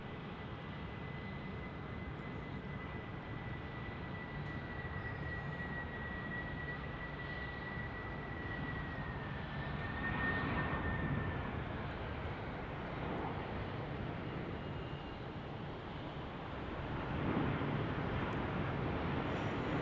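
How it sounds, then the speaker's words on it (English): A heavy FedEx MD-11 jet touching down on runway 34 right at Salt Lake City airport: a broad, steady roar with a faint whine, swelling slightly midway and again toward the end. "Heavy MD-11 just touching down now."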